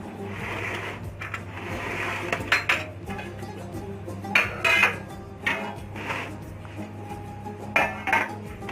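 Baking trays and pans for kunafa clatter and clink in a home kitchen, with a run of sharp metallic knocks and scrapes over a low steady hum.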